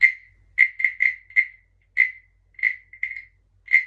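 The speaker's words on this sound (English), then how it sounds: "The croaking frog." A croaking frog toy, likely used in a crystal healing session, gives short, sharp, evenly pitched croaks, about a dozen in loose irregular rhythm, close and clear against silence.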